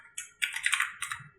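A date being typed on a computer keyboard, a quick burst of several crisp close key clicks within about a second, clear and alone.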